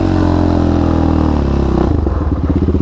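A Yamaha Raptor quad sliding through a powerslide turn on bald tires gives a loud, close engine roar that drops into a quick, choppy, pulsing blip at the end.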